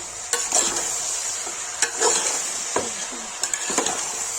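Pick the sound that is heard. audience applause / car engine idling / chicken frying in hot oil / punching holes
chicken frying in hot oil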